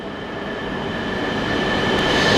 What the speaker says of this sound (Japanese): 新幹線とき451号が到着いたします。